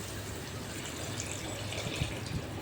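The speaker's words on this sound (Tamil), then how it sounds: "அதுக்கு 7 டம்ளர் தண்ணி சேர்த்துக்கலாம்" Water poured from a tumbler into a cooking pot holding rice and lentils for Kongu-style arisi paruppu sadam, a steady close splashing fill with a few louder gushes near the end.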